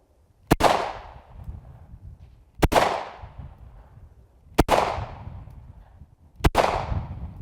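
Four sharp handgun shots ring out one at a time, spaced about two seconds apart, each loud crack followed by a short echoing decay, outdoors at a shooting range with no voices.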